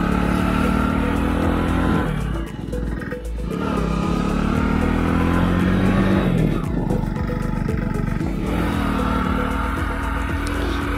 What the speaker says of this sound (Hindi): पहले गियर में ही चल रहे हैं हम बड़ी खड़खड़ाहट की आवाज के साथ।